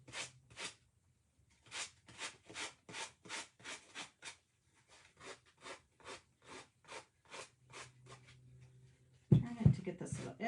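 A small holiday napkin-art chunky house craft piece being hand sanded, about twenty short regular rubbing strokes, close and clear, ending with a louder clatter as something is handled.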